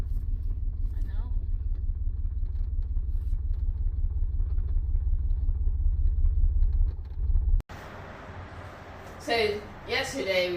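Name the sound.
2003 Chevrolet S10 V6 truck reversing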